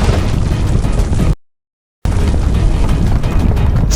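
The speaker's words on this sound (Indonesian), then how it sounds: "sebuah gunung ikut meledak sangat dahsyat" A huge mountain eruption blast rumbles as a loud, dense roar, cut off by a brief silent gap and then resuming at full force.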